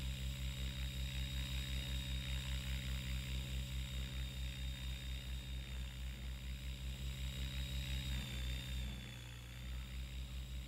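An RC helicopter's rotor spins at idle-up speed around 2000 RPM, giving a steady, fast, pulsing drone with a faint high whine. It dips briefly near the end before resuming.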